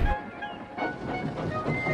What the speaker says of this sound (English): He was pulling a train of heavy coal cars.